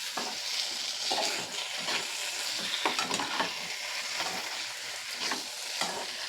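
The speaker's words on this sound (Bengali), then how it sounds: "আলুটা দিয়ে আবারও আমি একটু ভালো করে কষিয়ে নেব।" Potatoes stir-fried in a pan for aloo posto, repeated scraping strokes of a spatula at a loose rhythm over a low continuous sizzle, close but fairly quiet, with no speech.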